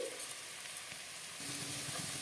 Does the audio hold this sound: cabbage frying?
yes